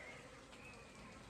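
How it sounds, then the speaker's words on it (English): Bees buzz steadily around a beehive super during honey harvest, a close, continuous insect drone with no talk. "there should be quite a few bees in here"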